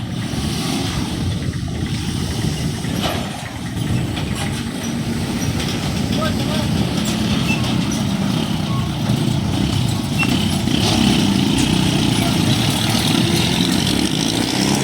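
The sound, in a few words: jeep carrying fish driving near ship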